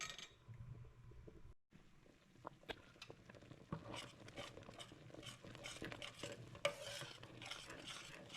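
A pot of peanuts for peanut and plantain porridge bubbles on the stove, giving quiet, irregular popping and light sizzling close by, with a few soft clinks of a utensil against the pot.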